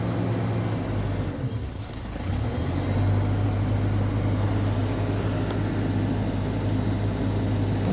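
A car engine revs under a fully pressed pedal but holds at about 2,000 RPM, a low steady drone with a firm tonal hum that dips briefly and then settles into a sustained, fairly loud note.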